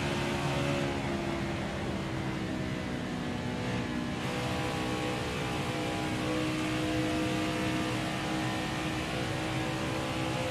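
Race car engine from NASCAR Heat 4 at Michigan International Speedway holds a steady, loud high-revving drone with constant whine throughout, dipping briefly near the middle, with no talk.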